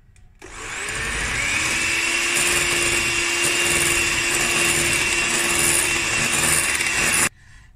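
An electric mixer whirs steadily as butter and sifted icing sugar are beaten together for biscuit dough, starting up, holding a constant loud buzz for several seconds, then cutting off.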